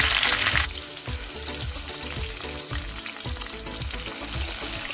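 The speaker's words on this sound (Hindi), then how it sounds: "साथ में डाल देंगे हरी मिर्च और लहसुन।" Green chili and garlic crackle and sizzle in hot oil, a bright burst at first that settles into steady frying with light stirring.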